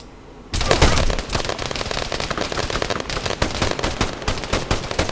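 Sustained machine gun fire in the military shooter Arma 3, starting abruptly after a half-second lull and continuing as loud, dense, rapid bursts of gunfire throughout.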